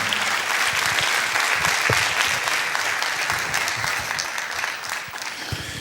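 Church congregation applauding during a Spanish-language sermon on communion, steady dense clapping throughout that eases slightly toward the end, with no one speaking.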